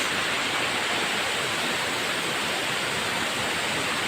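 Asik-Asik Falls waterfall, a loud steady roar of falling water that holds a constant broadband rush from start to finish, with no voices.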